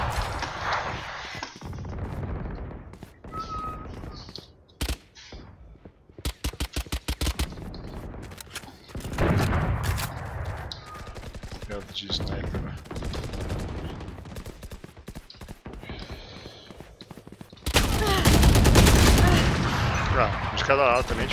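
Weapons firing in Valorant, including the Spectre submachine gun, with rapid bursts and sharp individual shots scattered throughout, ending in a loud sustained volley, as someone talks at times between.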